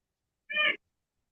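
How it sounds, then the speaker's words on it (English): A single short, clear cat meow, close and fairly loud, surrounded by silence. "Cat sounds like a parrot, man."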